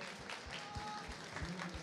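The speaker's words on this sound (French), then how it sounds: "Je demande de l'applaudir s'il vous plaît. Faites du bruit pour Emma." Audience applause for a student named Emma at a French agricultural high school event, a faint, steady patter of clapping from a crowd, with some voices mixed in.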